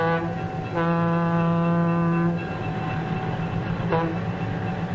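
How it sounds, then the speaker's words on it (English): A 1950s passenger train locomotive sounds a long, loud, steady horn blast, then a shorter one, over a constant rumbling engine drone as it starts moving slowly. "The huge locomotive sets the train in motion, slowly at first."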